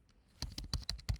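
Fingers tap out a short burst of typing on a computer keyboard, about six distinct clicky keystrokes in an uneven rhythm, close and clear with no talking over them.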